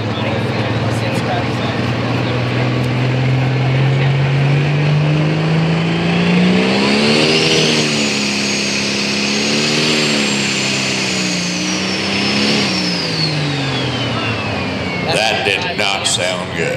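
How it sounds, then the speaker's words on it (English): A 9000 lb Light Limited Pro Stock pulling tractor at a tractor pull in Geneva, Indiana, revs at high RPM: a loud, continuous engine roar that climbs in pitch, wavers and surges, then eases off, sustained throughout. "wait till you hear the RPMs on this tractor"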